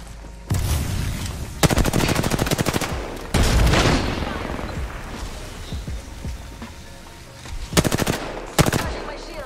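Bursts of automatic gunfire in the video game Apex Legends come in several separate volleys of rapid, loud shots, with brief crashes and quieter gaps between them and no talking.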